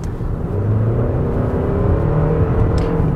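A Toyota RAV4 engine pulls hard under acceleration, heard as a loud, steady droning hum with a rising whir throughout, with no talking.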